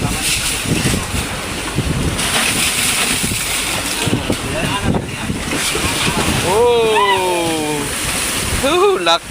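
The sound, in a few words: big ocean waves around fishing boat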